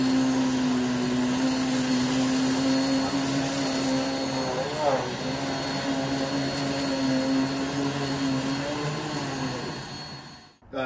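A Rainbow SRX vacuum cleaner with an aggressive power head runs over a thick rug, a loud steady motor whine with a brief pitch wobble midway, sustained close-up for about ten seconds before cutting off abruptly.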